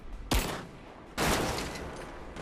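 Gunfire in the video game Rise of the Tomb Raider, two sharp loud shots about a second apart, each followed by a decaying echoing tail, with no speech.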